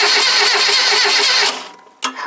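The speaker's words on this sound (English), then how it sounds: "When I crank this, so we're in neutral, we should get an engine crank." A Reliant three-wheeler's starter motor cranks the engine in neutral without firing, since no fuel is connected. The loud, steady, rapid churning runs for about a second and a half, then cuts off, followed by a brief clunk.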